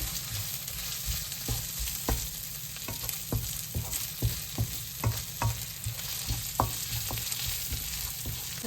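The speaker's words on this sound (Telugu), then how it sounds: "అల్లం పేస్ట్ పచ్చివాసన పోయేంత వరకు బాగా వేసుకుంటే చాలు" Ginger paste fries in a pan for a Sunday mutton curry, a soft constant sizzle punctuated by repeated spatula taps and scrapes at an uneven rhythm, close and fairly quiet, with no talking.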